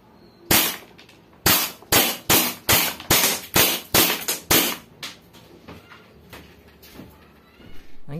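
Roughly ten sharp, loud gunshots are fired in quick succession at an FMA F1 full face mask from about ten feet away, each crack followed by a brief decay, then quieter handling noise.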